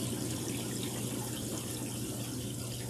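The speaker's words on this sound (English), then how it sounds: "the water will go down the pipe and down into the sump" Water flows down a pipe into the sump of a marine aquarium fed by a kalk stirrer, a steady close trickling rush with a low hum underneath and no speech.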